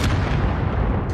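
A vehicle-mounted cannon fires in the Call of Duty Modern Warfare video game, a dense, sustained boom of gunfire filling the whole moment, loud and close.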